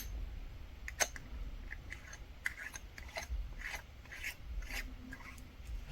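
A tool scrapes and grinds against the case back of a Fossil Big Tic watch as it is tightened, giving faint, irregular rasping and clicking strokes in a quiet room.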